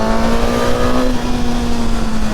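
A Suzuki GSX-S 1000 motorcycle engine holds a light throttle with a close, loud, steady droning hum and only a slight change in pitch.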